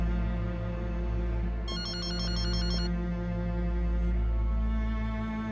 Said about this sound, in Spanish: Llamada de Pigeon.